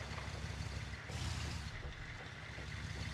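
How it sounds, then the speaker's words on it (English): A vehicle engine in the video game Arma Reforger, struggling after its engine block is hit by armor-piercing rounds, gives a low, rough rumble that churns steadily with a gritty, uneven texture, close and loud, with no voices. "you'll start hearing the different tunes of the engine when it actually starts to struggle"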